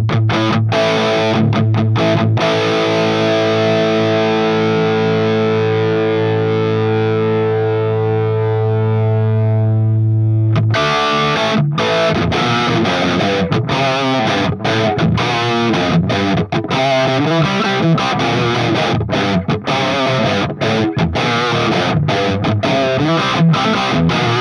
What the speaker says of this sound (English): if you crank it up really loud, you get a lot of distortion